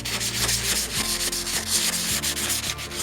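Hand sanding with fine 800-grit sandpaper in small circles over a painted surface, a loud, continuous rasping rub with rhythmic back-and-forth strokes and no voices.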